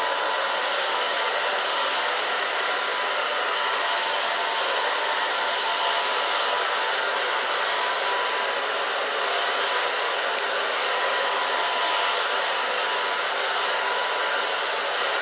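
A hair dryer blows continuously and loudly at close range while short asymmetrical hair is styled in a salon, a steady airy roar with no talking over it.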